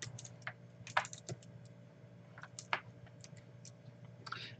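Someone types a username on a computer keyboard, producing a few quiet, scattered key clicks in irregular bursts against a low hum.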